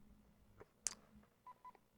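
A telephone keypad is dialed by hand. A few short, separate beep tones and a sharp click come through faintly over a quiet background.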